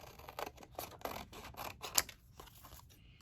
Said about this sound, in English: flip it over and cut off the excess